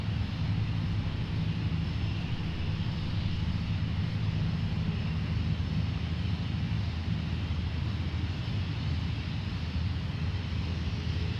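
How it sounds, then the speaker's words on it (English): A Kenmore Air PC-12 turboprop drones steadily at an airshow as it readies for takeoff, a loud, continuous engine roar with some wind buffeting and no talk. "So one of these guys is about to take off."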